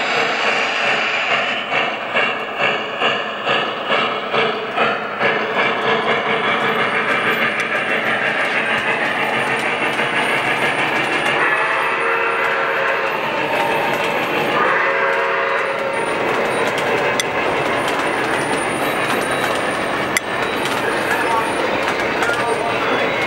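A model NYC Niagara steam locomotive runs on its track, puffing in quick rhythmic chuffs at first and then settling into a loud, continuous mechanical rumble and whir with faint talk beneath.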